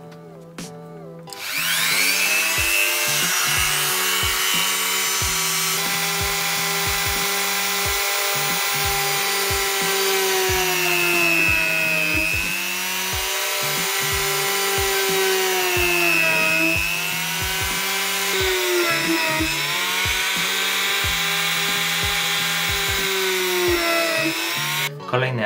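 A handheld rotary tool fitted with a 1.5 mm drill bit bores holes in natural leather for a knife sheath, giving a loud, steady high-pitched whine that rises and dips in pitch as the bit bites, with faint clicks throughout.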